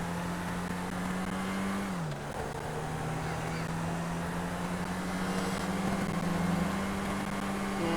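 A car driving and drifting in the video game GTA 5, a steady engine drone that dips in pitch and then holds even, close and continuous with no voices.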